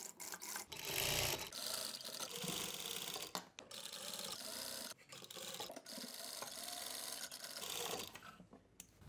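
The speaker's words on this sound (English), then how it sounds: "And then sew at 1 cm from the edge." A sewing machine stitches a sleeve to a shoulder seam in bursts of fast, quiet mechanical whirring, broken by short pauses and fabric handling, with no talking.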